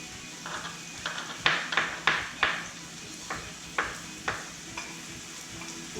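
Mushrooms added to onions in a hot pan give a quiet sizzle under a series of sharp stirring and scraping clicks, clustered in the middle and thinning out toward the end.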